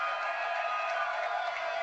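Large stadium crowd of fans cheering after a TCU college football win over Utah, a dense, continuous roar of many voices that is distant and steady, with no single voice standing out.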